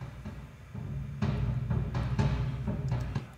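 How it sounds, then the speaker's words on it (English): Deep, booming orcish war drums pounding in a slow, heavy rhythm, with sharper hits joining partway through, played alone without voices. "I started with orcish drums."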